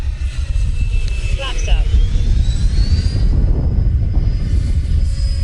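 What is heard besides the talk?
Freewing F-15 90mm RC jet plane making slow pass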